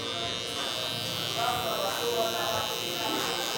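An electric 00 hair trimmer buzzes steadily and close while cleaning up a mid-to-high skin fade in a barbershop, with a voice talking underneath.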